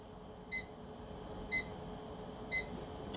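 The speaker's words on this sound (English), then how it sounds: "Why do you have an alarm going off at 2:30" An alarm beeps three times at steady one-second intervals, each a short bright electronic double tone, over a low, steady background hum.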